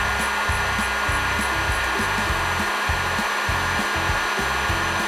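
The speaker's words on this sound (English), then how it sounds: "we can go ahead and heat up the black heat shrink, starting at this end." A heat gun blowing hot air onto black heat shrink tubing over the end cap of a TempZone electric floor heating cable, a loud continuous whooshing hum with a pulsing low-pitched rhythm, close and unbroken.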